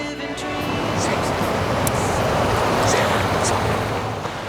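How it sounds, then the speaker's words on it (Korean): Ocean surf rolls onto the rocky eastern shore of Jeju along the Haemaji coastal road in Gujwa-eup, a steady, loud wash of breaking waves with wind blowing across the microphone. "여러분들도 이곳에 오셔서 파도 소리를 들으면서 마음을 안정하길 바라요"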